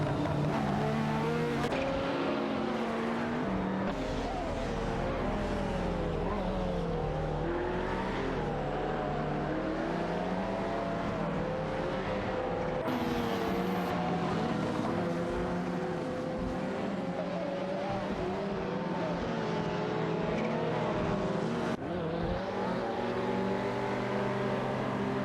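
A McLaren F1 LM and a Ferrari F40 LM racing in a video game, engines droning and revving through gear changes with occasional tire squeal, loud and continuous with rising and falling pitch.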